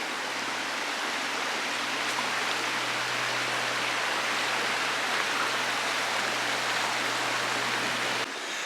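A creek flows beside a trail at Natural Bridge, Virginia, giving a steady, dense rushing wash of water that stays constant and close, with no voices.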